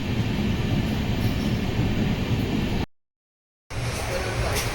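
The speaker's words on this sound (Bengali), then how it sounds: "এত স্লো যাচ্ছে ট্রেন।" Continuous rumbling of a moving Humsafar Express passenger train passing Belgharia, loud and close, briefly cut to silence before the rolling noise resumes.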